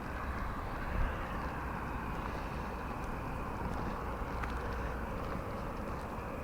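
A petrol-engined motorised bicycle ridden in Glasgow gives a steady, buzzing engine drone mixed with wind rush, continuous and fairly loud, with no talking.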